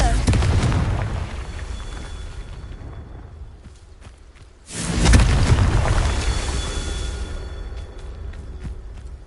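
A Confringo spell explosion in a video game, a deep, loud boom that swells midway and rumbles off slowly over continuous low game noise.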